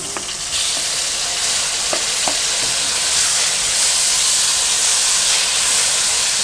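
Spices and chopped tomatoes fry in hot oil for aloo karela, a potato and bitter gourd dish, giving a steady, close sizzle with a few soft stirring clicks and no talking.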